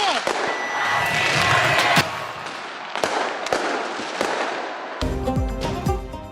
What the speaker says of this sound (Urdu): گورنر ہاؤس کراچی میں آتش بازی کا نیا ریکارڈ قائم، مسلسل 40 منٹ تک آتش بازی کی گئی۔